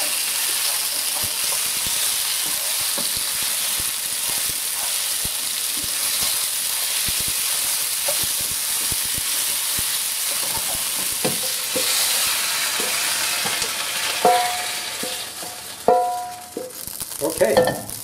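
Ingredients for kung pao chicken with pineapple stir-fried in a hot pan, a steady sizzling hiss with scraping stirs throughout, growing choppier with sharp clatters and bursts near the end; no talk.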